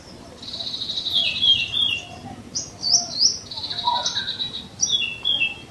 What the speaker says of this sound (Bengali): আর মাঝে মাঝে কিন্তু বন্ধুরা সুন্দর পাখির ডাক শোনা যাচ্ছে